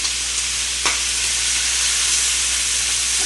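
A wild duck breast sears in butter in a hot skillet, with a loud, continuous hissing sizzle and one brief clink of metal near the start.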